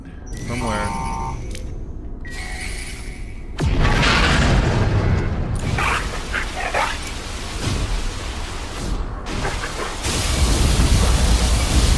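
Weapon fire and explosions in No Man's Sky during a fight with hostile ships, a dense, loud stretch of blasts and roaring noise that jumps louder partway through, with a voice talking over it.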